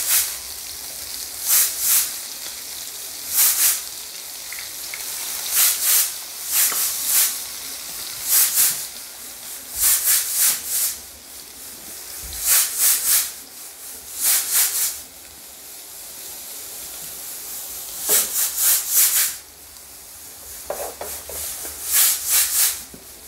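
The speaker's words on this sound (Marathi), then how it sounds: "आता कांद्याचा रंग छानपैकी सोनेरी होईपर्यंत आपल्याला परतायचं छान त्याला." Chopped onion goes into a pan of hot oil with crackling cumin seeds while pav bhaji is being made. Bursts of loud hissing sizzle repeat every second or so as it is stirred, with a quieter background hiss in between.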